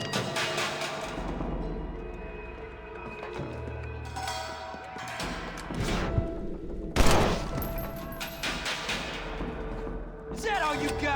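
Gunshots ring out in Red Dead Redemption as scattered sharp cracks and booms, one loud blast standing out, amid game ambience and clattering effects.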